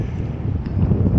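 Wind gusting at a boat slip on the Texas coast, a steady low roaring rush against the microphone with no talk.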